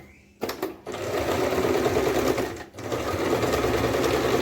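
Domestic sewing machine stitching a kurti collar runs in a fast, loud mechanical clatter that stops briefly twice and restarts, close up with no talking over it.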